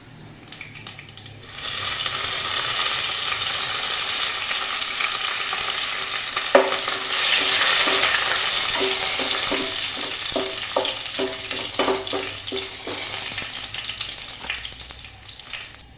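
Curry leaves dropped into hot oil with popped mustard seeds, while cooking okra and egg thoran, burst into a loud, continuous sizzle that carries on steadily, dotted with crackles and stirring clicks.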